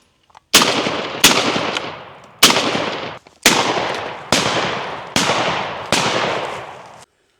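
Seven loud, sharp shotgun blasts fired at thrown clay pigeons outdoors, spaced roughly a second apart, each with a decaying echo tail.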